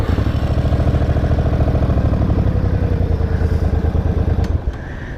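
A motorcycle idles with a close, steady, thumping beat for about four and a half seconds, then the engine cuts off and only a faint hum of a fan remains.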